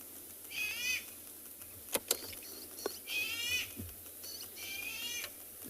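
A bird's distress call on a Kalahari sunrise safari drive sounds as repeated high wavering cries at a distance, interrupted by a few sharp clicks and knocks amid quiet outdoor ambience.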